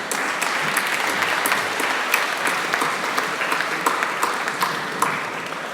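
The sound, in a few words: applause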